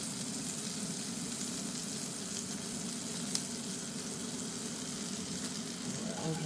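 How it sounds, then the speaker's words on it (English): Onions sauté in a little butter in a pan at a winter campsite, giving a steady close sizzle and frying hiss that holds throughout at low volume, with no talk. "just a little bit of butter in there, not a whole lot, just enough to saute these onions up"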